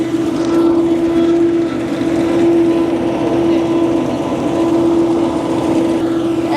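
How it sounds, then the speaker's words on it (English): An ag bagger machine creeps forward while packing silage into a growing plastic bag, giving a loud, steady mechanical drone with a constant hum that runs unbroken throughout. "So this machine is moving forwards and the ag bag is getting bigger."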